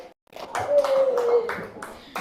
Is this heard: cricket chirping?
no